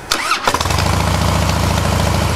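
A 2008 Harley-Davidson Softail Custom FXSTC engine cranks briefly, catches, and settles into a steady, rapid idle, loud and close.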